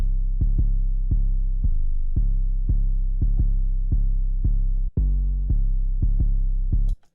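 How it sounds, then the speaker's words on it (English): A deep 808 bass in a trap beat plays booming, sustained notes that follow the melody in a steady rhythm, loud and up front, with no talking. "I knew the next thing was the 808."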